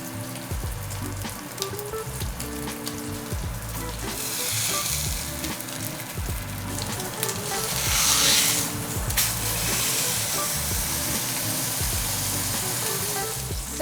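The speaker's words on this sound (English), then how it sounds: "We're gonna let that sear" A ribeye steak sears in a hot pan with a loud, continuous close sizzle and spitting crackle, swelling briefly partway through and holding steady to the end.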